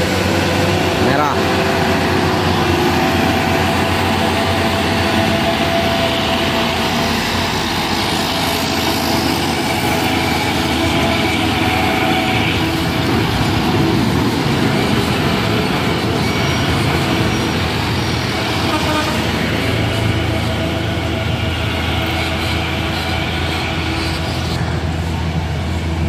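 Fuso truck engine at a roadside stop, a loud steady low drone running for the whole stretch, with voices talking over it.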